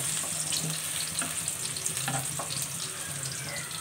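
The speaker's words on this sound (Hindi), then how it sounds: "हल्की आंच पर हम प्याज को जो है सौते कर लेंगे यानी ब्राउन कर लेंगे।" Onions sautéing in a pan over low heat, a continuous close frying crackle with scattered small pops and occasional stirring scrapes, no voices.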